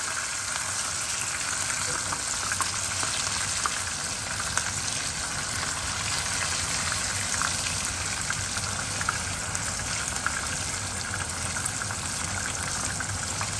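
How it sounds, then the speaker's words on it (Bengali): Continuous sizzling of potatoes frying in a pan with cumin seeds, a steady crackling hiss with faint pops throughout and no talking. "আলুটা একটু ভাজা ভাজা হবে।"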